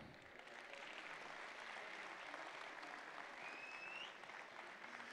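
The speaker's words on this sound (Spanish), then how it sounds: "Qué manera tan barata de sacar un aplauso" Audience at a stand-up comedy show breaks into sustained applause, a dense, steady clapping that fills the room without pause, fairly distant and even in level.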